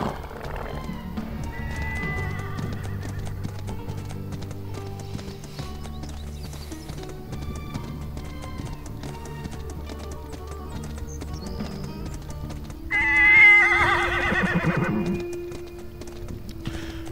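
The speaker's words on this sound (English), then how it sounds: "Now I'm gonna take my horse, or take a new horse in this case" A horse whinnies loudly in the Badiya video game, a long bright neigh rising over a steady rhythm of hooves clip-clopping, with a low game ambience underneath throughout.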